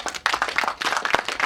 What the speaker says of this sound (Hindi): So all the best for lucky गली गाइस के लिए जोरदार तालियां।